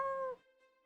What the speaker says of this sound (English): Every now and then, my cat Hime will just go...